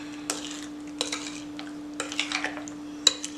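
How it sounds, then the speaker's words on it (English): A spoon scrapes and clinks against a dish while a pineapple casserole mixture is stirred, in a few separate bursts of scraping and tapping, close and fairly quiet, with no talking. "just stir it up really good. Get it all mixed in there."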